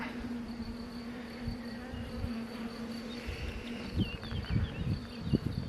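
Honeybees crowd over hive frames holding brood and drone comb, a steady close buzzing hum with a few louder bee passes and light handling knocks toward the end.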